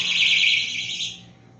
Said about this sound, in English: Please, sound the alarm again.